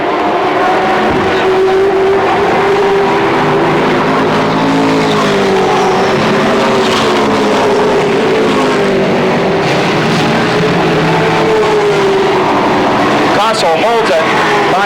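Race cars roar around the Motordrome Speedway oval in a 1992 race, their engines a constant droning whine that swells and fades as they pass, heard beneath continuous excited commentary.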